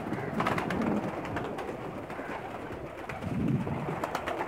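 Flock of female Pakistani flying pigeons cooing steadily close by, with wingbeats and rustling mixed into a continuous low murmur of the birds.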